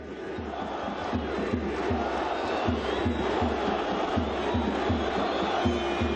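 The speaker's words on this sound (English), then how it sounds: "listen to that crowd." Large partisan football crowd at an AFC Champions League round-of-16 match in a stadium, with a loud sustained roar and rhythmic chanting pulses, distant and continuous with no talk over it.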